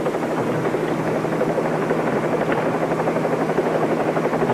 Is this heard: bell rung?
no